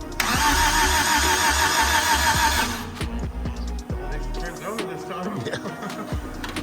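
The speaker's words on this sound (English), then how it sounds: "He's got a push button start because it's got the clicky start issue in the ignition. So I'm gonna give her a try, Kevin." A Suzuki Samurai fitted with a swapped 1.6L 16V engine is push-button started: a loud, steady whine of cranking runs for about two and a half seconds, then the engine catches and idles roughly with uneven knocks nearby.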